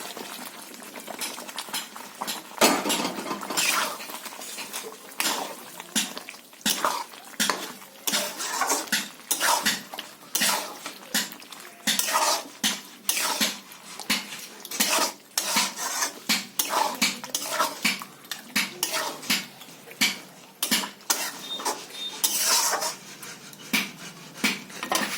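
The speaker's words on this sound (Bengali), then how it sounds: "ম্যারিনেট করে রাখা মাংসটা আমি দিয়ে দেব।" Marinated chicken goes into a pot for a chicken curry and gets stirred, giving repeated scraping and clinking of a metal utensil against the pot over a background sizzle, close and steady with no talk.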